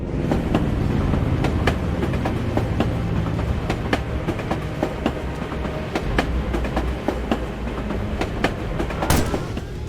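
A tram rumbles past in Assassin's Creed Chronicles: Russia, set by the Volga, with steady rail clatter and rhythmic wheel clicks that stay loud and close throughout, ending with a sharp bang near the end.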